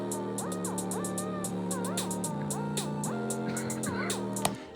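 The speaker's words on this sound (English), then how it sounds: "for your second snare, you can just fill up what the main snare is missing, so it sounds something like this" A simple FL Studio beat with sustained pads and a gliding lead, punctuated by a steady run of crisp snare hits filling gaps between the main snare, moderately loud with no talking.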